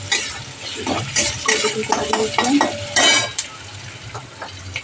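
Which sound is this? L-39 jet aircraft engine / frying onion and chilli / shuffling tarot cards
frying onion and chilli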